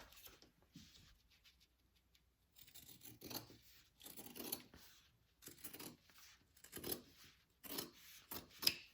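Scissors trim the fabric overhang on a sewing project for a duffel-style bag, producing several short bursts of close, crisp snipping and rustling of cloth, separated by brief quiet pauses.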